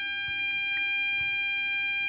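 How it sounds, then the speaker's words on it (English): A Pawstech anti-bark dog collar emits a steady, high electronic beep tone that holds continuously, close and clear, with faint handling taps underneath. "that's the first beep."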